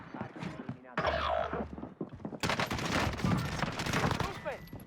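Video-game gunfire from akimbo Sykov pistols in a match: bursts of rapid shots and a short fusillade, loud and close, mixed with game sound effects and players talking.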